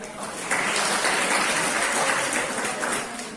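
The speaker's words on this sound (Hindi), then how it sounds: "परफेक्ट नहीं, पर इन लोगों के लिए तालियां।" Audience applause at a college seminar: a burst of many hands clapping that starts half a second in, holds steady, then eases slightly toward the end.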